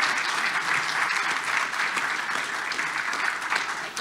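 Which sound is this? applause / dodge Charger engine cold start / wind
applause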